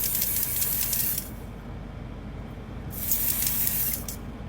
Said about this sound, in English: I'm gonna spray this section again just so we can see